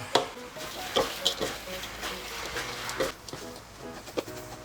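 Skewered shrimp being tossed into chili paste in a pan, with soft stirring scrapes and a few sharp utensil knocks against the pan over faint sizzling and some low talk.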